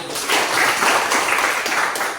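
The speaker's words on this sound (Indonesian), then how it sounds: "Tepuk tangan dulu" A school class applauding during a mathematics lesson, many hands clapping in a dense, steady patter that fills the room, fairly loud and continuous.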